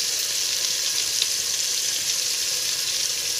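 Onion, tomato, turmeric, salt, ginger-garlic paste and coriander-cumin powder sauté in a pan for Maharashtrian matar pulav, a constant close sizzle throughout.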